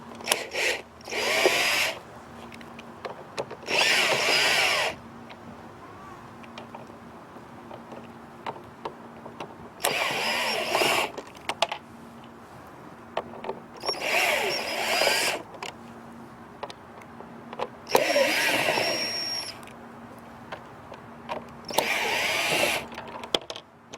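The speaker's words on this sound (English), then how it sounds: "at this step here you'll need a T15 bit to take about 12 screws out of the back of the cluster to get the lens off" A power driver with a T15 bit backing screws out of the rear of a vehicle speedometer cluster, running in six separate whirring bursts of a second or two each, close and fairly loud, with pauses and small handling noises between them.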